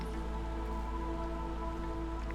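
Continuous rain patters through the Drizzle season in the video game Against the Storm, a steady even wash of droplets with a low hum and faint tonal music beneath, no voices.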